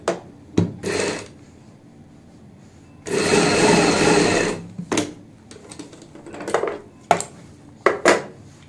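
A sewing machine stitches a box-pleat palazzo pant, running in short bursts with one longer steady whir in the middle, separated by pauses and small handling clicks, close and fairly loud.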